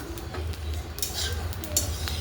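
Coriander seeds dry-roasting in a pan for homemade black masala, with a soft, steady crackle and popping over a low background rumble, plus a few scraping stirs, moderately quiet and close.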